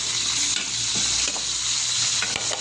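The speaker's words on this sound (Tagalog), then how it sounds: "igisa na natin ang ating bawang. And then, isunod na natin ang ating sibuyas" Garlic and onion sauté in a pan for chicken afritada, giving a loud, dense, steady sizzle with a few soft stirring scrapes close by and no voices.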